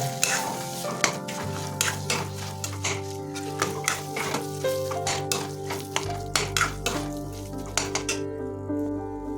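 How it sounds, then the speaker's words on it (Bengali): Greens with fried peanuts, fish oil and lentil dumplings being stirred over a low flame in a kadai, with rhythmic spatula scrapes and clinks against the pan over a soft, continuous sizzle close by. "আরও মিনিট 2 ধরে লো ফ্লেমে কষাতে থাকবো।"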